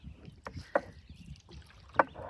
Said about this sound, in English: So we're just paddling along.